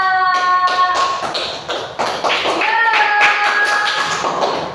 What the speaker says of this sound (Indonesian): Tepuk tangan untuk kelompok kedua.